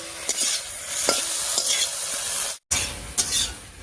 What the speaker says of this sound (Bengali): বাটা মশলা দিয়ে সব কিছুর সঙ্গে খুব ভালো করে মিশিয়ে নিয়েছি